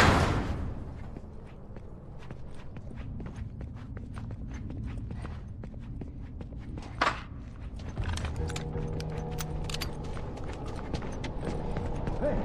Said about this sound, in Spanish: he oído al puto caballo ahí detrás.